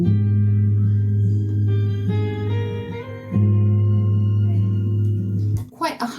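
Intro to a song, with acoustic guitar, lead guitar and subtle bass playing a steady sustained harmonic pattern, loud and close, ending in a brief noisy burst.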